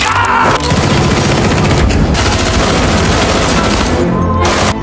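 Heavy, sustained gunfire fills a shootout scene from the crime film The Gentlemen, a loud, dense barrage of rapid automatic shots and booms with only brief pauses.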